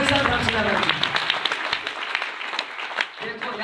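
Loud applause breaks out among the crowd at a DXN company meeting, a thick clatter of many hands that thins slightly toward the end, with voices mixed in.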